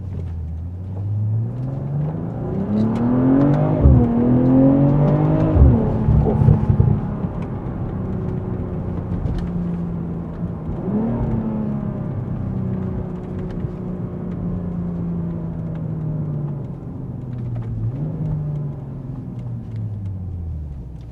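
A BMW M340i with 285 kW and 500 Nm drones steadily from inside the cabin while driving, its engine tone rising and falling through gear changes with a heavier surge early on, and no one speaking.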